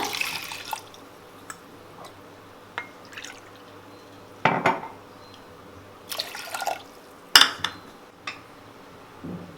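Water runs and drips into a cooking vessel over washed moong dal for a pressure cooker, with scattered splashes, a few louder pours and clinks against the container, close by, with no talking.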